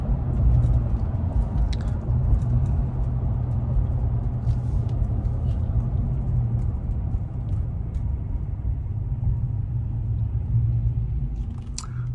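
Cabin rumble of a RAM 1500 pickup with a 5.7L Hemi V8, Magnaflow 3-inch exhaust and Nitto tires cruising toward a freeway, a steady deep low drone with faint road noise and occasional small clicks, no talking.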